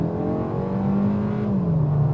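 A turbocharged 2025 Kia K4 GT-Line engine holds a steady, loud drone that rises in pitch and then shifts lower, as if accelerating and changing gear.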